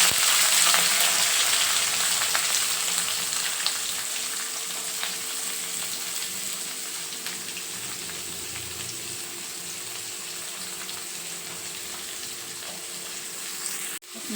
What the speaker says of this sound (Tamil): பொரிஞ்சோன்னா கருவேப்பிலை, வெங்காயம் போட்டுக்கலாம்.